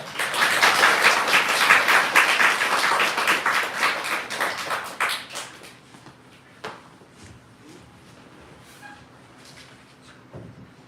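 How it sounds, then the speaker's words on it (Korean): A church congregation at a Sunday service claps to welcome visiting missionaries, a warm, full burst that thins out after about five seconds into a quiet room with a few scattered taps and small noises. "박수로 환영하도록 하겠습니다"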